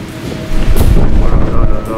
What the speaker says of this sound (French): Oh là là là là, vous entendez ce vent?